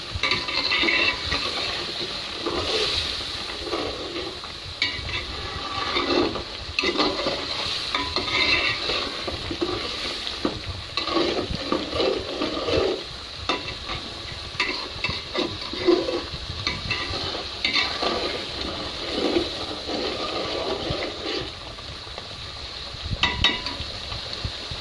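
Shrimp cooking down in a pan for a Bengali shrimp bhuna, with a steady close sizzle and repeated scraping stirs of a utensil against the pan, with no talk.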